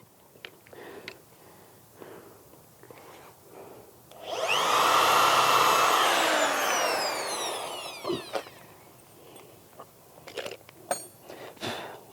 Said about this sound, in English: And then I drill.